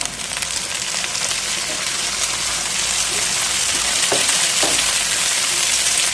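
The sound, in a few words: broad bean seeds frying with onions in oil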